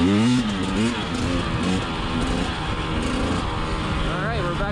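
A KTM 300xc TPI two-stroke enduro motorcycle from 2020 runs in a steady, loud, buzzy drone, its pitch wavering as the throttle rises and falls, with voices talking over it.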